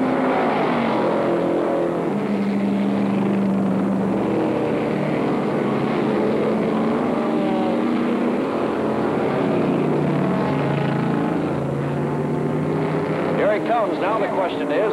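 Race cars, including McLaren's, driving in the 1964 Nassau Trophy race, their engines a steady loud roar throughout, with a commentator talking over the noise.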